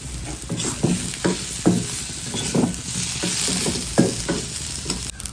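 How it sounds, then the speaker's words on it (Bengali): Fried pointed gourd is stirred in a pan of spices, a steady sizzle under repeated scraping strokes of a spatula every half second or so, close and fairly loud with no talking. "এবার আমি ভাজা পটলটা দিয়ে দেবো,"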